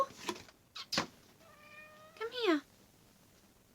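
A pet cat gives a clear, close rising meow around the middle, after a voice calls to it; she talks over the quiet moments before it.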